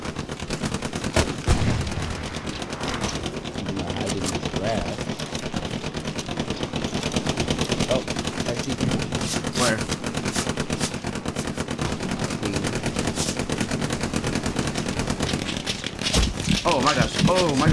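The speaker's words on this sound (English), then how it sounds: "Oh, I'm getting shot at." Gunfire in the WWII shooter Hell Let Loose, with dense, continuous rattling rifle and machine-gun shots from near and far over a steady battlefield din, and a player talking throughout.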